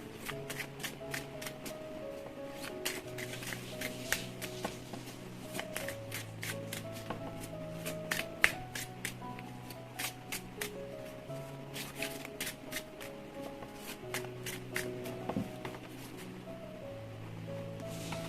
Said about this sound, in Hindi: तो शुरुआत करते हैं शफल करके।